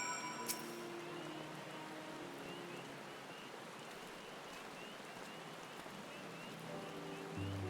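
Rain falls in the Final Fantasy XIV game world, a steady, soft hiss of drops on surfaces that runs evenly throughout, with a faint chime near the start and low tones at the end.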